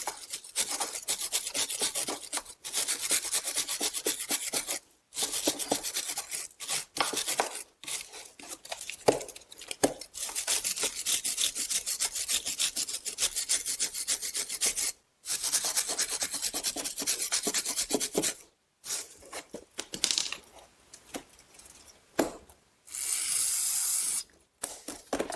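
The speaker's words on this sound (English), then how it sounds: "We want to make sure we clean that up, then we'll spray it off with some brake clean." A wire brush scrapes hard on a brake caliper bracket of a 2008-2016 Smart Fortwo Passion front brake in long raspy bursts, mixed with hissing sprays of brake cleaner, broken by short pauses.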